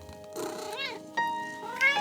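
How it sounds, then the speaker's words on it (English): A tabby cat meows several times in a short stretch, close and fairly quiet, with rising and falling calls against a quiet background. "tabby cat entering through the gates"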